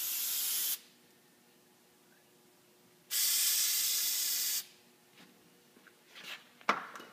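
An aerosol can of brake cleaner sprays a wasp in a workshop, giving two loud, close hissing bursts separated by a pause, followed by a few faint knocks and clatters.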